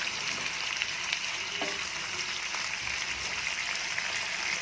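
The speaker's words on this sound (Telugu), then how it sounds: "ఇప్పుడు దీన్ని కూడా ఒక పది నిమిషాల పాటు కుక్ చేసుకోవాలి ఈ విధంగా ఆయిల్లో ఫ్రై చేసుకోవాలి" Cluster beans frying in oil in a pan with chicken, giving a steady broadband sizzle that holds evenly throughout, close and moderately loud with no talk.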